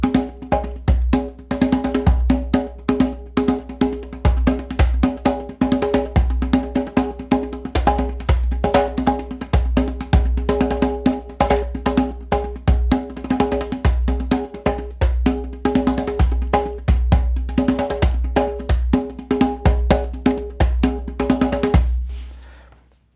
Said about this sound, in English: 8 beats per second, single drum sounds like this.